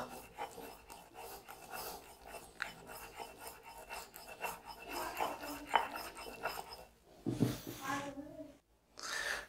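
Bear fat medicine mixture is rubbed and worked by hand, a quiet, continuous rasping scrape with soft uneven strokes, faint and close, with a louder burst of rubbing near the end.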